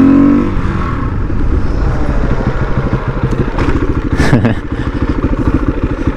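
Supermoto motorcycle ridden on a backcountry road, a loud close single-cylinder engine thumping in rapid pulses under heavy wind buffeting, with a brief rev rise midway.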